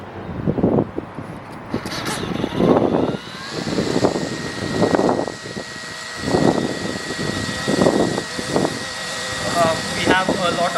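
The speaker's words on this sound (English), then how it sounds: "I'll try to power on the helicopter now" An Eachine E200 UH-60 Black Hawk RC helicopter spins up outdoors on a windy terrace, a rising electric motor whine climbing and settling into a steady hum beneath repeated bursts of nearby talking.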